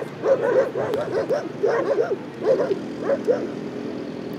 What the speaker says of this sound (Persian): سگا دارن خوار مادر خودشون یکی میکنن.